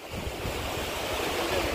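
Steady wash of sea waves surging over a rocky shore, close and continuous with a low rumbling churn and a hiss of spray, mixed with wind buffeting the microphone.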